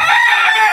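A pet rooster crows nearby, a loud, bright fragment of its call cut short, heard alone without voices.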